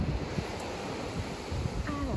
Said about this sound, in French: Avec le bruit des vagues, c'est juste impressionnant.